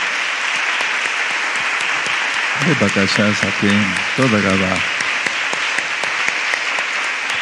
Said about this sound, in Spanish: Ahora, no dejes de aplaudir.